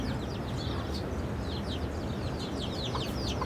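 Four chicks peep repeatedly in high, quick chirps over a constant low outdoor rumble on Rodrigues island, with soft clucks from their mother hen mixed in.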